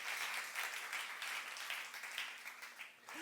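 Church congregation clapping during a youth-group sermon service, a soft, distant wash of applause that is steady and fairly quiet, fading slightly toward the end.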